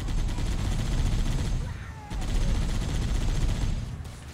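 Dense, continuous gunfire in Halo: Combat Evolved, with rapid automatic bursts and loud close shots crackling almost without pause, broken by one brief lull.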